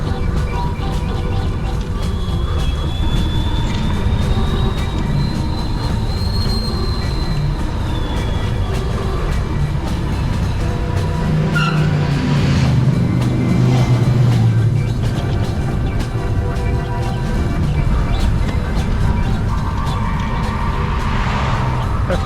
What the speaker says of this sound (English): probably traffic is fairly heavy